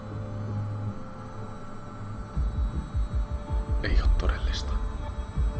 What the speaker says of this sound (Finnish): mun pesukone pitää meteliä